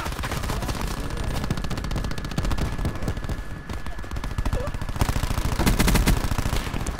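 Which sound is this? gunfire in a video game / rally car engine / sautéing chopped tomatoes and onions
gunfire in a video game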